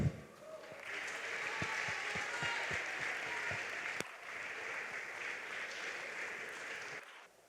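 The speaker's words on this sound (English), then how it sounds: "with a warm round of applause, welcome to the stage our alumnus speaker" Warm applause from the audience at a school achievers and graduation ceremony, welcoming the alumnus speaker to the stage; sustained steady clapping from a large hall crowd for several seconds before fading out.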